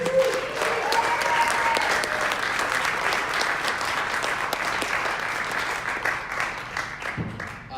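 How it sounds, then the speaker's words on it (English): Sustained audience applause at an evening industry event, dense and steady from start to finish with a brief vocal cue near the opening, fading slightly at the end. "Huge round of applause for Leslie."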